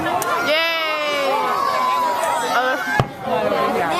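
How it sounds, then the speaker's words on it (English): Fourth of July fireworks give one sharp bang near the end, while a loud crowd cheers, shouts and whoops close by throughout. "look at those fireworks"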